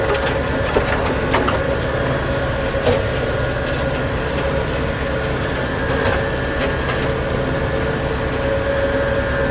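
An older farm tractor's engine runs steadily nearby, a continuous low droning hum with a constant mechanical rattle and a few faint clicks, with no talking over it.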